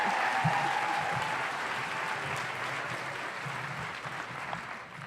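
A crowd at a political inauguration applauds enthusiastically, a dense continuous wash of clapping that slowly fades, with a few voices rising faintly through it.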